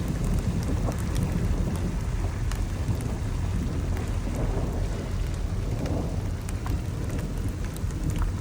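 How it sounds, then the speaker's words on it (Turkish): Loud, heavy rain pouring down continuously around a Togg car, with a deep rolling rumble of thunder underneath and scattered drips striking close by. "Nasıl yağıyor, nasıl yağıyor?"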